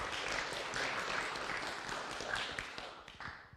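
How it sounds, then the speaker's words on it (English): Audience applause at the Indigenous Connectivity Summit 2019, a moderate, steady wash of clapping from a crowd that fades toward the end. "A round of applause."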